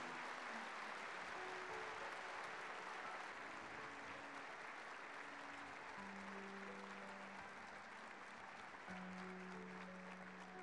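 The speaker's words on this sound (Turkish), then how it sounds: "Efendim bir kez daha şöyle kuvvetli bir alkış rica edebilir miyiz lütfen?" A crowd at a film premiere applauds strongly, a sustained wash of clapping heard from a distance, with low sustained musical tones underneath.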